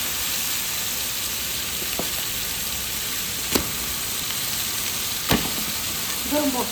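Chicken sizzles steadily in a hot pan, a constant crackling hiss with a few sharp ticks and spatters.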